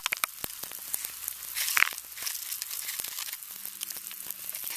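Pop Rocks candy crackling and fizzing in Sprite, a dense stream of tiny crisp pops and hissing fizz, close and steady throughout with one louder burst partway through.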